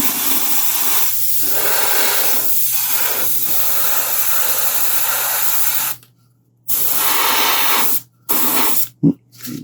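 Spray paint applied in a wet coat to a quarter-scale Samurai Wolverine figure: close, loud continuous hissing bursts broken by short pauses, ending in a few quick spurts.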